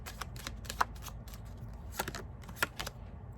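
Tarot cards are shuffled and drawn during a reading, with soft papery riffles and a few sharp card snaps in a quiet room.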